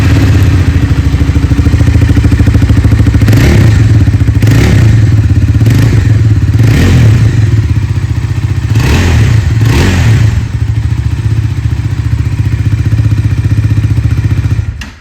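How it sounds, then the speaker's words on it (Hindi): A 2026 Bajaj Dominar 400 motorcycle engine idles loudly and steadily up close, with several quick throttle blips revving it up before it settles back to idle. "पहले सुन लेते हैं डोमिनार 400 की एग्जॉस्ट नोट।"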